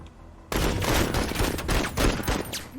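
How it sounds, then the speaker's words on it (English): Rapid carbine gunfire in the tactical shooter Menace erupts after a brief quiet moment, sustained bursts of loud cracking shots filling the rest of the stretch with no talk. "Carbine."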